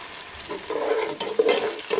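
Ginger garlic paste hits onions already frying in oil for an egg pulao, giving a close, moderate sizzle with splashy bursts that rise and fall over about two seconds, with no talking.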